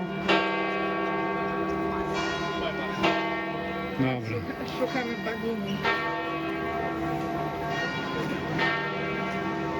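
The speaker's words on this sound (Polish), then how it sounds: "Dzwony dzwonią." Church bells at St. Peter's Basilica in the Vatican, Rome, ring out steadily with rich, sustained tones, struck repeatedly over several seconds while people talk nearby in a large crowd.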